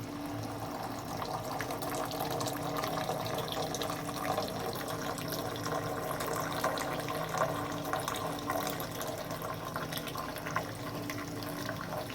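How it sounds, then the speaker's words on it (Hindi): Milk poured into hot kahwa while making karak tea, a steady continuous liquid pour that runs for the whole stretch at moderate level, with no talk over it. "अभी हम इसमें दूध डालेंगे।"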